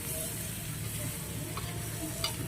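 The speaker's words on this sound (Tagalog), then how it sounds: "Magigisa tayo ng gulay." String beans and pechay sauté in a hot pan, a soft continuous sizzle with faint stirring scrapes and light ticks, quiet and steady.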